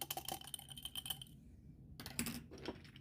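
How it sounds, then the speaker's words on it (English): Ice cubes drop into a glass of cold protein instant coffee, with a burst of close clattering clinks, a brief pause, then a second rattling burst. "Add some ice"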